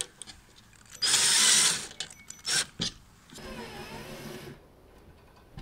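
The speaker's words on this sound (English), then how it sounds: "just drill them in and see what happens" A power drill whirs loudly in a short burst while driving in hollow wall anchors, then stops; a couple of brief mechanical bursts follow before a quieter, steadier grinding hum.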